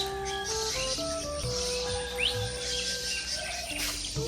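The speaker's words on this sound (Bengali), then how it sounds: "পাখির কিচিরমিচির ডাক।" Several small birds chirping and whistling in the morning near a vegetable garden, with varied repeated tones over a quiet background and no talking.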